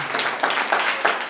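A church congregation at a Progressive Baptist Church in Mesa, Arizona, breaks into a short burst of hand clapping, a dense patter of many hands close by with no talking.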